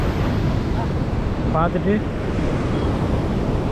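Steady roar of surf and wind at RK Beach in Visakhapatnam, loud and continuous, with a brief spoken phrase partway through.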